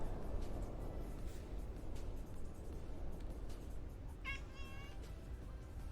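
A cat meows in a brief harmonic call near the end, rising over a steady loud rumble of background noise in a simulated setting.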